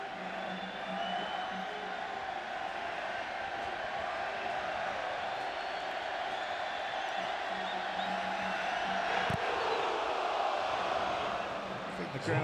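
Stadium crowd at a 2017 Gold Cup football match between the United States and Jamaica, a sustained broad roar of fans cheering throughout, with commentary voices underneath.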